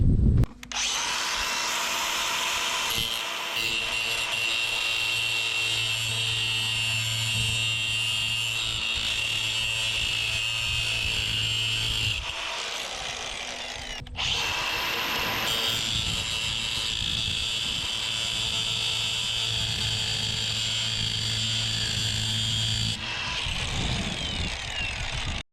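Power sander working a plastic Nissan Titan rear window part, a loud steady whine running for about twelve seconds, stopping briefly, then running again for a similar stretch, close up with no talk.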